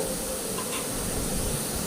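Onions sautéing over medium heat in a pan for a vanjaram fish curry, a steady soft sizzle and hiss running evenly throughout, close and alone with no talking.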